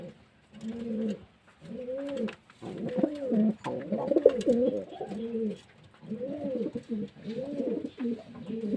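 Pigeons coo in close, repeated throaty phrases at a steady pulsing rhythm while drinking water during intense autumn heat.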